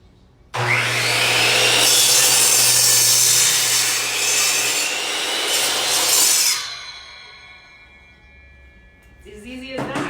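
A saw cuts through wood for a DIY corner shelf, a loud steady rasping cut that runs for about six seconds before fading out, followed by quieter clatter and the tool winding down.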